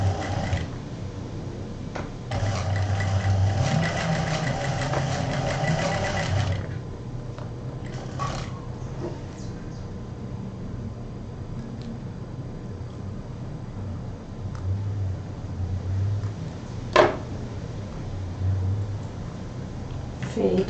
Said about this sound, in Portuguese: E agora vamos costurar aqui.